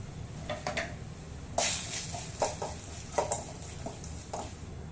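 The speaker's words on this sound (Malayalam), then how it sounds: "പൊടിച്ച് വെച്ച മസാല ഇട്ട് കൊടുത്ത് നന്നായിട്ടൊന്ന് വറുത്തെടുക്കാം." Ground masala being roasted in a pan with mustard seeds, urad dal and curry leaves, a quiet frying hiss broken by intermittent scraping and stirring sounds close by.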